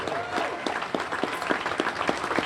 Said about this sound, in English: please give a hand of applause for this group right here